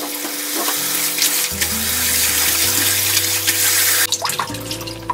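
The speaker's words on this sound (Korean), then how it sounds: "열무를 두세 번 정도 흔들어서 씻어주시면 돼요." Young radish greens swished and rinsed by hand in a basin of water, a steady close splashing and sloshing with a running tap in the background and a sudden shift near the end, no voices.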